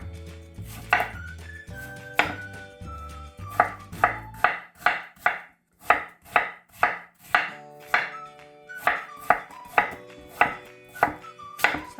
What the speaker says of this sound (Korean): 이제 배는 이걸 갈 거니까 그냥 갈기 편하게 이렇게 썰어